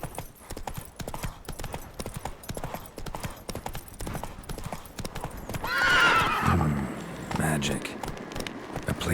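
Horse hooves clip-clop at a quick gait in The Witcher 3: Wild Hunt, and the horse gives a clear neigh partway through. The sound is close and steady, with some game ambience and short speech.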